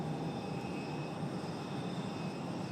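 A distant, steady airliner engine roar from an Endeavor jet departing runway 5 Left at Raleigh-Durham International Airport, a faint continuous rumble with a faint whine throughout.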